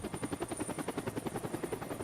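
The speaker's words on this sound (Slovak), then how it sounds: "helikoptéra je už tu a my v nej sedíme, tak môžeme ísť" A helicopter in the Roblox game Livetopia gives a steady, rapid rotor chop with a faint high whine, close and continuous for two seconds, with no talking.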